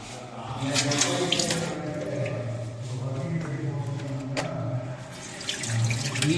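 Water runs steadily from a tap into a sink, a continuous close splashing stream with a few brief clatters over it.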